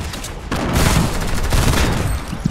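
Gunfire in a Fortnite battle royale match, a loud, dense burst of rapid shots and impacts that keeps going without a break.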